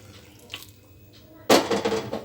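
A little water poured from a vessel into batter in a home kitchen, a short close splash and trickle arriving abruptly after quiet room sounds.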